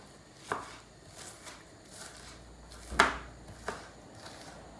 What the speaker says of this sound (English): you chop the onion in small little pieces, like this one